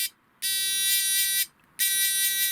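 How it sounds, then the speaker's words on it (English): An electronic buzzer wired into the indicator circuit of a Longjia GY6 scooter sounds twice in long, steady, high-pitched bursts with a short silence between them, close and fairly loud. "it's got a buzzer on it"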